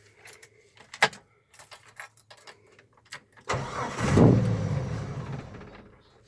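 A cold Jeep YJ engine is started: keys jangle and a few clicks come first, then the starter cranks and the engine catches into a rough, close idle.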